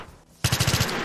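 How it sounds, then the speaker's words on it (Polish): Gunfire from a nearby shooter in the DayZ video game, a rapid burst of about six loud, evenly spaced shots that starts abruptly after a quiet moment. "Ktoś koło nas strzela"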